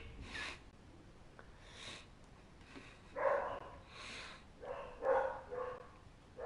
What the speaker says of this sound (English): the dogs are barking as soon as I start streaming